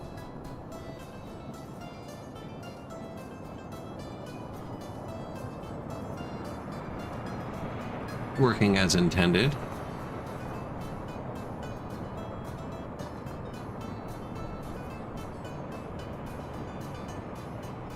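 A long cargo train runs in the Workers and Resources city-building game with a steady, even rumble throughout; a voice speaks briefly in the middle.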